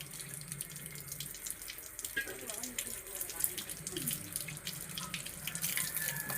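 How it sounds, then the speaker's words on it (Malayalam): Running tap water streams steadily into a kitchen sink as chopped vegetables are rinsed, a soft continuous splash with light clatter, fairly quiet and close. "ഇനി നമുക്ക് ഇത് കൊണ്ട് കഴുകാം. ഒരു പ്രാവശ്യം കൂടെ കഴുകിയെടുക്കാം."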